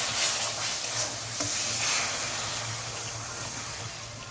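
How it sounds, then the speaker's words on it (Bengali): Water is poured into fried masala sizzling in a hot pan, giving a loud, steady hiss and crackle over a low rumble that stays constant throughout. "এবার আমরা এটাকে পরিমাণ মতো জল দিয়ে দেবো এর মধ্যে।"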